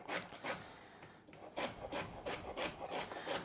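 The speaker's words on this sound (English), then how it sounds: "this is probably finer than it needs to be, but this is kind of my default chop" A knife chops a couple of celery ribs finely on a wooden board for soup and stock, giving a steady series of close, crisp cuts with one short pause partway through.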